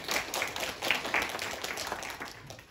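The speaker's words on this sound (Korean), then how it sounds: "이분 박수 한번 쳐주셔야겠습니다." Clapping from a lecture audience at a writing class in Korea, a modest round of hands with a few distinct claps standing out, steady then tapering, heard alone without talk.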